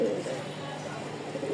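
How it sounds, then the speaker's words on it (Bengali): A pair of Lakkha (fantail) pigeons in breeding condition coo softly and continuously, a low burbling murmur with faint background noise. "এক জোড়া খুব সুন্দর লক্ষা, ডিম বাচ্চা রানিংয়ে আছে"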